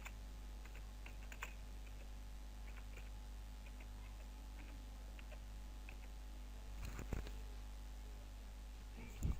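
Light clicking of a computer keyboard while text is typed into MS Word, faint and irregular keystrokes over a low steady hum, a few louder taps near the end, no talk.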